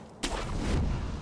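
An enemy cannon firing in Sekiro: Shadows Die Twice, a single heavy boom with a sharp onset that rolls out into a low rumbling tail.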